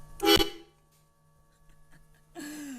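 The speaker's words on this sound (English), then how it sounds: "when I honk the horn" A short honk of an Opel GT's car horn, then near silence, then a second sustained horn blast at the end, close and fairly loud.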